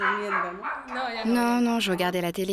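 A small dog barks and whines nearby in short yelps while a person talks over it.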